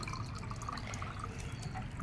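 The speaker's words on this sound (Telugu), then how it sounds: "అందులో వాటర్ పోసుకోవాలి" Water poured into a vessel while preparing paarani from coconut shells, heard as a faint, steady trickling and dripping splash close by, with no talk.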